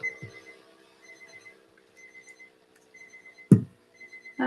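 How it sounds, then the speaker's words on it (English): An indoor alarm clock beeps in repeated short bursts at a steady rhythm, moderately loud, with a sharper clunk partway through and no speech over it. "Oh dear, where's the alarm going off?"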